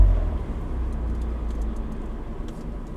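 An Abarth 124 Spider cruises at night with its exhaust valves closed, a low, muted engine drone with a subdued rumble from the start, fairly steady and unobtrusive, with faint clicks and rattles from the cabin.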